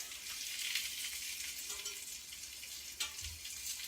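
Steak searing in a hot cast iron pan gives a constant, bright sizzle at moderate volume throughout, with one brief sharper crackle partway through and no voices.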